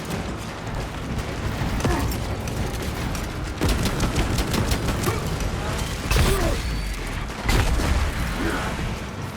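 Explosions and rapid gunfire in Space Marine 2, a Warhammer 40K shooter played on PC, with several heavy booms striking around two, four, six and seven seconds amid a continuous dense clatter of battle.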